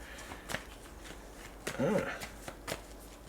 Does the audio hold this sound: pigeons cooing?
no